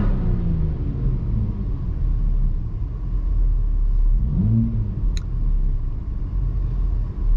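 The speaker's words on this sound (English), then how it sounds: "let me just rev it up" Volvo P3 3.0L engine, close and loud, holds a deep, steady rumble and then gives one brief rev that swells and falls back partway through.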